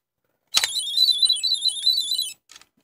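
A basic single-LED alarm device sounds one steady, shrill electronic warble for about two seconds, close and loud, followed by a brief short chirp, with no other sounds.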